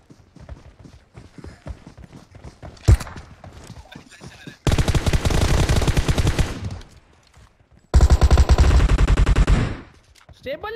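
Gunfire in the mobile battle royale game PUBG Mobile: a single loud shot, then two long, dense bursts of rapid automatic fire, loud and close, with faint voice chat in the quieter stretches.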